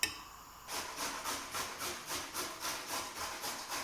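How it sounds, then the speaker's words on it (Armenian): A carrot rubbed over a kitchen grater, a quick steady series of about a dozen rasping strokes in even rhythm, close and fairly quiet, with no speech. "Գազարը քերիչով անց ենք անցնում,"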